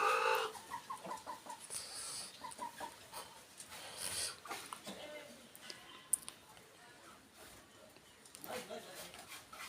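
Chickens, including local country breeds, cluck and squawk in a busy yard, with a voice talking over them at times.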